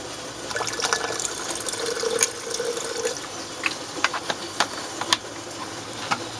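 Liquid poured from a big bottle during sterling silver refining, a soft steady trickle and splash with a few sharper drips and clinks, fairly quiet and close.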